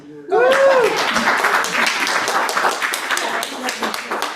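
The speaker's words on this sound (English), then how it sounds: "You can clap." An audience applauds at a live storytelling show, a loud burst of many hands clapping that starts suddenly and runs on steadily, with a voice rising briefly at the start.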